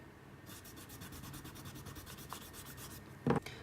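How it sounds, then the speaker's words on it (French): An eraser rubs out pencil construction lines on paper in a drawing session, a quiet rhythmic scrubbing of quick strokes, close and faint, followed by a short bump or tap near the end. "On peut gommer nos traits de construction."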